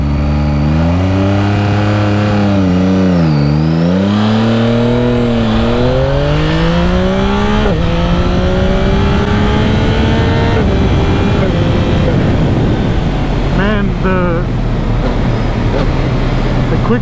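A 2025 Yamaha MT-09 SP motorcycle engine revs hard and climbs through gears with quick-shifter changes, pitch sweeping up and dropping at each shift, loud and close with wind noise and a rider's voice underneath.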